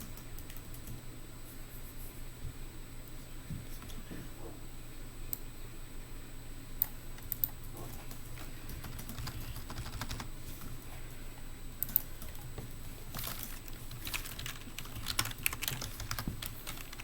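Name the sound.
typing on a computer keyboard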